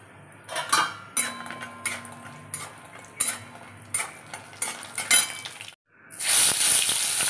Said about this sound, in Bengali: বড়ি ভাজা হয়ে গেল, এবারে পটল ভাজা।